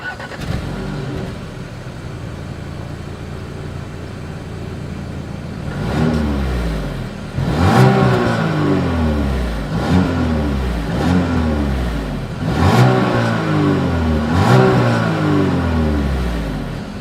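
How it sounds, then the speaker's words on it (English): A 2020 Audi Q5 SUV exhaust idles, then revs up sharply several times in a row, each burst of roaring engine climbing and falling back, loud and close. "As always, here is that exhaust clip."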